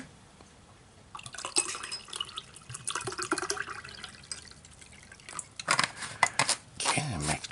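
Water from a military canteen pours into a cup to mix MRE lemonade, a splashing, trickling fill that begins after a second of quiet and runs unevenly with gurgles and drips, close and moderately loud, no talking.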